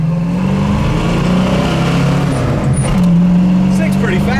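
A red 1968 Ford Mustang with a two-barrel carburetor drives along, its steady engine drone rising slightly as it accelerates, heard from inside the car with people talking over it.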